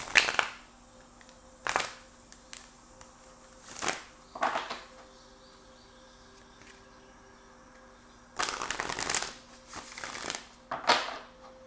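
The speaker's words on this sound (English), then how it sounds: "let's get some oracle cards for you guys for the week ahead." Oracle cards being shuffled by hand, several short papery riffling bursts with pauses between them, close and fairly quiet over a faint steady hum.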